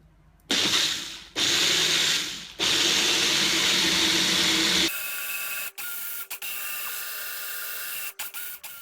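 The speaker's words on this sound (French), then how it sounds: "C'est pas le cas pour moi, donc je le fais au petit mixeur, au petit blender," A small blender whirs through cashews, sesame seeds and Rejuvelac in several loud bursts with brief pauses, then a lower, steadier mechanical hum with a few short dropouts, and no talking.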